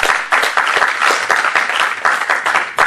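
An audience applauds at a festive gathering of the PDCI RDA women's union in Paris, a dense, loud, continuous clapping from many hands throughout.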